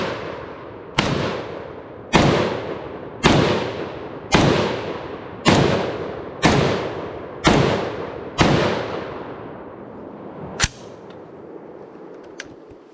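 A SIG SG751 SAPR rifle in .308 fires eight loud shots at an even pace, each one cracking sharply and then ringing out across an outdoor range, followed by a ninth, shorter report after a pause.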